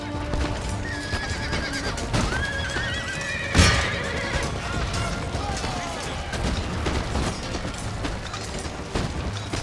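Horses in the game Empire: Total War neigh and whinny repeatedly over hooves and distant battle clatter, with a sharp thud partway through.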